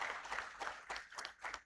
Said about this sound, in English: I request that we give a round of applause to the Honorable the Chief Justice.